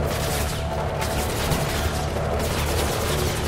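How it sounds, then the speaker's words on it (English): Rapid bursts of gunfire in the video game Mirror's Edge Catalyst, dense overlapping shots rattling continuously at moderate level with no talk. "I like how they're shooting all the way over there, and yet the bullets are hitting me."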